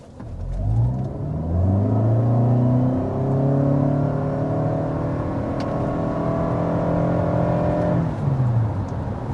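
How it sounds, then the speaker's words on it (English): A 2025 Toyota Camry XSE accelerating hard, its engine note climbing through several rising sweeps as the gears change, loud and steady before easing off at the end. "this does give the Camry a very noticeable acceleration advantage"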